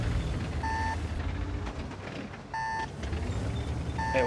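Repeated electronic beeping in World of Tanks after a tank gets tracked and cannot move, coming in short bursts of paired tones over a steady low rumble of engine and battle noise.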